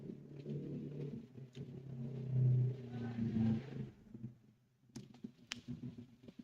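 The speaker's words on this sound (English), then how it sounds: "I hate these 50cc scooters." A 50cc scooter revs past outside, a low, rough, tractor-like engine drone that swells to a peak and fades after a few seconds, followed by scattered clicks and quieter background noise.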